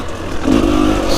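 A 2023 KTM 250 XCW two-stroke dirt bike riding through woods on single track, its engine a loud, close, steady drone that rises partway through.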